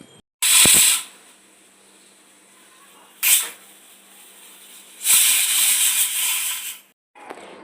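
Pressure cooker on a kitchen stove letting out steam in three loud hissing bursts, the last one long and sustained, with quiet gaps between them.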